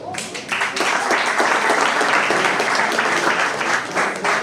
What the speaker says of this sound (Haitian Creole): Applaudissements encore, s'il vous plaît.